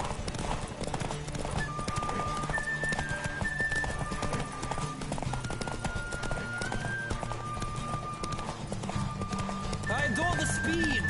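A horse gallops hard in The Witcher 3, its hoofbeats drumming in a fast steady rhythm throughout, with a brief whinny, tonal music and a voice talking over the run.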